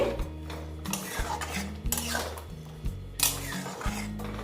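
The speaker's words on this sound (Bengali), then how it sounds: "ঘি দিয়ে অল্প নেড়ে চেড়ে নিচ্ছি" Mung dal is stirred with ghee in a pan while cooking mung kalia, giving repeated scraping and clinking of a spoon against the pan in an uneven rhythm, close by and moderately loud, with a steady low hum underneath.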